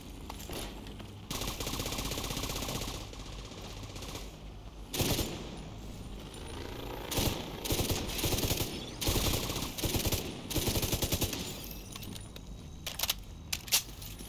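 Turret machine gun fire in The Division 2, a long sustained burst followed by choppy bursts and scattered single shots, loud and close with clattering debris between.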